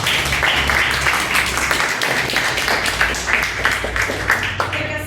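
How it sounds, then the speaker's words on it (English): An audience applauds contestants at a definition contest, a dense, steady burst of clapping sustained throughout at moderate loudness. "Let's give a big round of applause for them."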